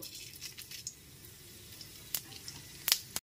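Bay leaf, dried red chilli and panch phoron crackling in hot oil, a faint steady sizzle with a few sharp spits and pops near the end, no voices.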